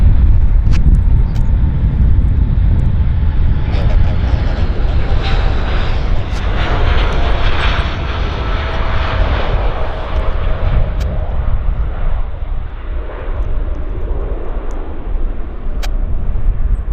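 Airliner taking off at Vancouver Airport as its engines build airspeed, a loud, rumbling jet roar with a faint slowly falling whine. The sound holds steady and heavy, then thins slightly toward the end.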